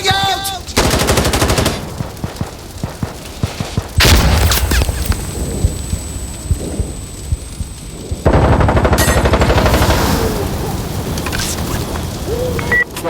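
Grenade blast and gunfire in the game Insurgency Sandstorm: loud, dense bursts of automatic fire and booms, a sharp explosion around the middle followed by a ringing tone, then heavy firing resumes.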